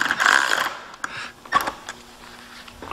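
Mechanical clicking and ratcheting from a roof rack clamp being tightened on a Fox Body Mustang, a few short close clicks and scrapes, no talking.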